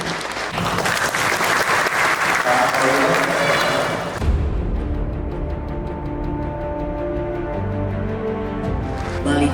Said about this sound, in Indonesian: saya tepuk tangan dulu lah